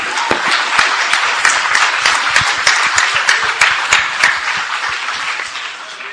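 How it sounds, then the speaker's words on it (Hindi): Loud, dense applause from the audience at a school poetry-verse competition in Aurangabad, continuous clapping with sharp individual claps standing out, sustained for several seconds before tapering slightly. "तालियां बजाइए इसको"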